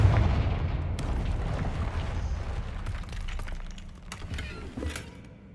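Confringo blasting spell explosion in the video game Hogwarts Legacy, a loud, deep boom at the start that rolls into a long rumbling decay with scattered crackles and debris clatter.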